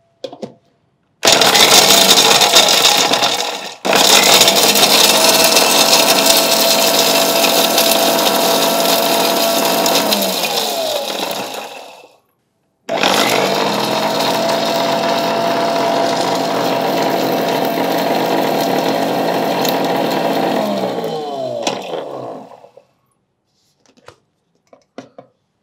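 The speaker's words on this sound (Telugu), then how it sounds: "ఫస్ట్ పూల్ మకాన్ వేసుకొని మిక్సీ పట్టుకుందాం." Roasted fox nuts (makhana) are ground to powder in a kitchen mixer grinder, which runs loud in two long bursts with a brief stop between them and winds down at the end, followed by faint clatter.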